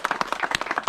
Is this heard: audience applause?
yes